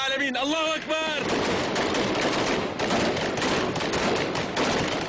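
Dense, continuous gunfire rattles throughout during an assault on a prison compound, loud and sustained, with a brief wavering tone or cry at the start.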